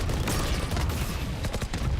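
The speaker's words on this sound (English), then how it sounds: "All missiles away." A missile barrage fires in a professional Valorant esports match, Team Liquid against Team Vitality at VCT EMEA Kickoff. A loud, dense, continuous roar of rapid blasts and crackling impacts lasts the full two seconds.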